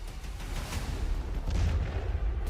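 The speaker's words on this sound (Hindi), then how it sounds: "दूर से एक ड्रोन उड़ते हुए कार्गो शिप के पास आता है और जहाज पर बड़ा धमाका होता है।" A drone strikes a cargo ship at the Odesa port, setting off a big blast: a dull, distant, rumbling boom that swells and rolls on through the whole stretch with no voices.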